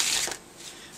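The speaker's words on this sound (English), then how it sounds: "Give the deck a shuffle." A deck of playing cards is riffle-shuffled in one quick, close, crisp flutter that fades into a softer rustle.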